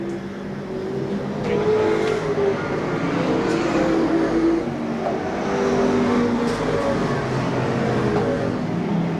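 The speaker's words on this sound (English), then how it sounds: "That's a Lindblad chassis automobile, that 87 car." Lindblad chassis stock car number 87 at Seekonk Speedway, its engine droning steadily with other race cars roaring and passing, a continuous loud motor din throughout.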